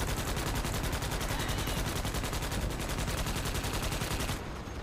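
Rapid, sustained automatic gunfire rips at bugs in Starship Troopers: Extermination, a loud, unbroken stream of evenly spaced shots that drops off just before the end.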